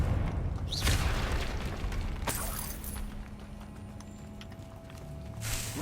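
Confringo spell cast in Hogwarts Legacy, a booming burst near the start followed by a second sharp crack and rumbling decay, with mechanical clatter and a low game ambience behind it.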